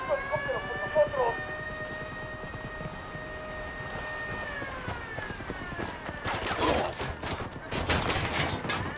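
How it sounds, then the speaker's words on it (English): Wailing alarm siren in Ghost Recon Wildlands, steady tones held for several seconds over rain and background noise, followed by bursts of gunfire near the end. "Sonando la pinche alarma."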